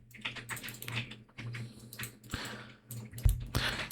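Rapid, irregular clatter of keys being typed on a computer keyboard, close and fairly clear, with no voices over it.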